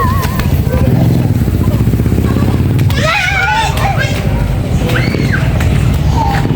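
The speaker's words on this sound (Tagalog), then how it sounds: "kunin mo. May tricycle." A motorcycle tricycle rumbles past on a busy street, a loud close engine drone running under children's excited talk and chatter.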